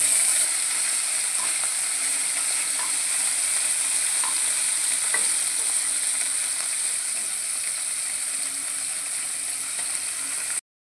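Fish frying one by one in mustard oil in a wok, a steady loud hiss of sizzling oil continuing unbroken with a few faint clicks and pops, close up, then cutting off abruptly at the end.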